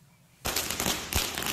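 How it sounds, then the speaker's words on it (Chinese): Firecrackers go off at a restaurant entrance during a reopening celebration, erupting suddenly after a quiet moment into a loud, dense, continuous crackle of rapid bangs that lasts to the end. "在门口开心放鞭炮庆祝"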